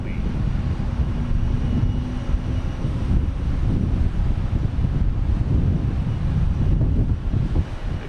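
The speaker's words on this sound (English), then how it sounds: "Now we get Etihad rolling out here as well." An Etihad airliner taxiing out at Boston Logan gives a steady, close jet-engine rumble with a faint whine, mixed with wind buffeting the microphone and no talking.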